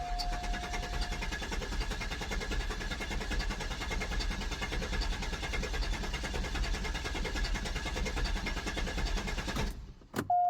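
A low-mileage Cadillac engine, primed with starting fluid, cranks in a long, steady, even whir for about ten seconds, then stops abruptly.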